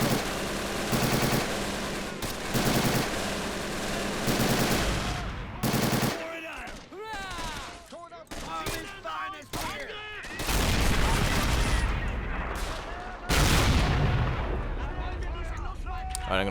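Pak 40 anti-tank guns firing in the war game Men of War: Assault Squad 2, a dense barrage of booming cannon shots and rattling gunfire that runs loud and continuous with short quieter gaps.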